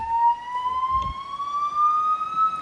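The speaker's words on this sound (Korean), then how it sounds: "큰 길 가까이 있는 건물이다 보니까 이렇게 앰뷸런스의 소리가" An ambulance siren wails close by outside a building on a big road, its steady rising tone holding throughout with faint low rumble beneath.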